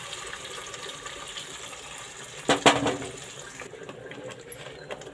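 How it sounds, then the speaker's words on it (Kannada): Water poured into a rinsed mixer grinder jar while making sambar, a short splashing pour over steady kitchen background noise. "ಜಾರ್ ತೊಳೆದು ನೀರೇ ಹಾಕ್ತಾಯಿದ್ದೀನಿ."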